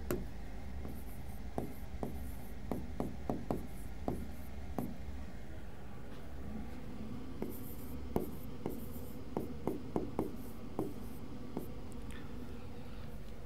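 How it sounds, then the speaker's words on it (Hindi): Chalk or marker writes on a board during a geography lesson, with a long run of quick taps and scratchy strokes coming in uneven bursts, close and steady, with no talk over it. "देशांतर लिखना है हमें यहां पे"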